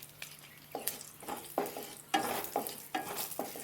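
Dried red chillies and curry leaves frying in oil for lentil dal tempering, bursts of sputtering sizzle alternating with scraping stirs in an uneven rhythm, close but fairly quiet and without talk.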